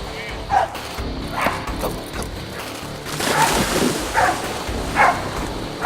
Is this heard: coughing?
no